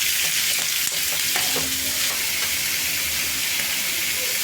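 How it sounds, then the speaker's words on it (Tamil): Carrot, cabbage and beans stir-fried in a pan with capsicum for chapati noodles, giving a steady loud sizzle and hiss with occasional scraping stirs throughout, no voices. "கேரட்டு எல்லாமே போட்டு, முட்டைக்கோசு எல்லாம் போட்டு, பீன்ஸ் எல்லாம் போட்டு வதக்கிக்கலாம்."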